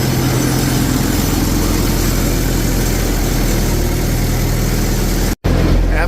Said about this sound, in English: come and activate the hydraulic